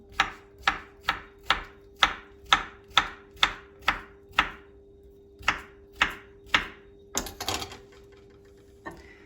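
A knife chops cucumber on a board in a steady run of about fifteen crisp, evenly spaced thuds, close and clear, pausing briefly before a final scrape and one last cut.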